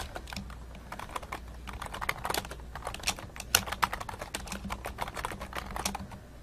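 Rapid, uneven keystrokes clatter on a computer keyboard, close and continuous, with bursts of quicker tapping and no voices.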